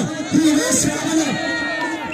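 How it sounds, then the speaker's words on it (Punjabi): Crowd at a kabaddi tournament final match, a dense roar of cheering and clapping from many spectators with whoops, steady and moderately loud throughout. "ਤਾੜੀਆਂ ਮਾਰਦੇ ਜੀ ਤਾੜੀਆਂ"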